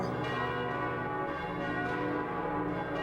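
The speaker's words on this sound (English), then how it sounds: "What's that bell?" Church bell tolling in the video game Koudelka, a continuous rich metallic ringing with dense sustained overtones throughout, loud and alone with no talk.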